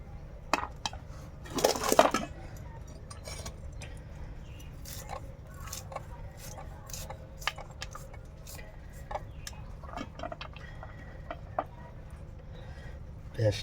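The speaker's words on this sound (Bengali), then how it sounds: "এখন আমরা পেঁয়াজটা কুচি কুচি করব।" An onion is finely chopped with a knife in a home kitchen, giving scattered sharp ticking taps, sometimes in quick runs, close and fairly quiet against a low background hum, with a denser clatter near the start.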